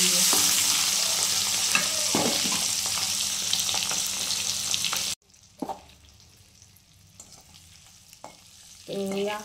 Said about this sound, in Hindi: यहाँ पर अंडा फ्राई हो गया है अच्छे से